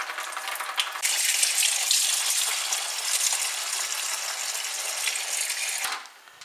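Coolant draining from the bottom radiator drain plug of a BMW E36 M3 into a pan, a steady loud splashing gush that runs for about five seconds before cutting off.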